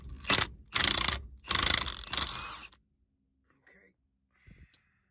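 Wheel lock nut, 13/16 size, being worked loose on a Dodge Power Ram 4x4: several loud bursts of ratcheting, clanking mechanical noise close by, then near silence with a couple of faint clicks.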